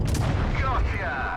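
A tank in the WOT Blitz game fires an explosive shot, a single loud, close boom that rolls off into a fading rumble.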